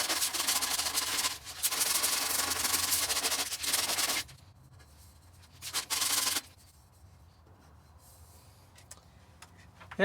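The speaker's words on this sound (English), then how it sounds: "I'll smooth it out just a little bit more and hit it with some sandpaper" Sandpaper scrubs over cured JB Weld ExhaustWeld patched onto the exhaust pipe of a Lexus GX470: a long, loud stretch of rough rasping strokes, a pause, a brief second burst, then quieter faint rubbing.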